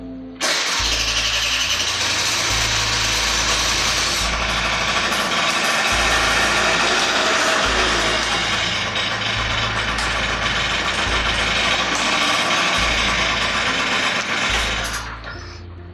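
A Honda Elite 50 (SA50, AF16) scooter engine runs steadily for the whole stretch, a loud, close buzzing two-stroke drone that pulses between lower and higher revs before cutting off near the end.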